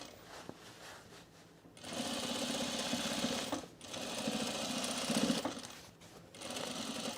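A sewing machine stitching cargo shorts, close and steady, running in three bursts separated by short pauses.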